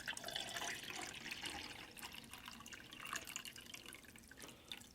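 Quiet water pouring into a tumbler for a Keurig iced coffee, a faint, uneven splashing trickle with small drips running continuously, with no talking.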